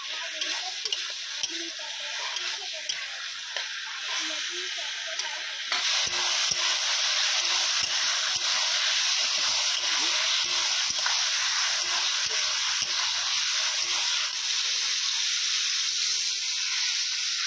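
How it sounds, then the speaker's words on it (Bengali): Potato, ridge gourd, tomato and onion frying in a pan, a steady loud sizzle and hiss with repeated stirring scrapes throughout, growing louder partway as fresh vegetables go in. "আলু ঝিঙে কষে নিয়েছি, এবার দেবো টমেটো। তার সঙ্গে দেবো পেঁয়াজ।"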